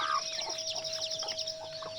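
Close by, a mother hen with her young chicks gives repeated soft clucks, with high thin peeping from the chicks layered over them and a steady faint hum underneath.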